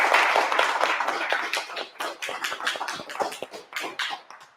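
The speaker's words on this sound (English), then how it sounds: "Give yourselves a round of applause for showing up." Clapping from an audience at an Orlando mega mansion event, a dense patter of hand claps that starts loud and full and gradually thins and fades over a few seconds, with no one talking.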